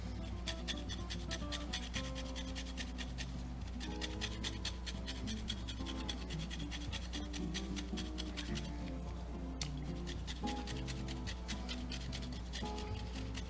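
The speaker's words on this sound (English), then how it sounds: "Let's get the lemon zest in there." A lemon's rind is rubbed against a small handheld zester in quick, repeated rasping strokes that sound soft and fairly faint over a steady tonal background.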